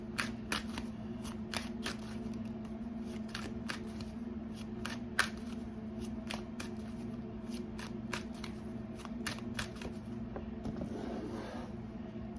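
Repeated crisp riffling of tarot cards being shuffled, a steady series of quick flutters over a low constant hum, with no talking.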